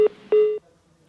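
Telephone line tones mark a call being cut: two clear electronic beeps, one short and one longer, followed by a faint line hum, with no one talking.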